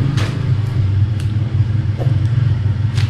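Loud low engine rumble of a motorized tricycle passing close by, steady throughout with faint scattered clicks above it.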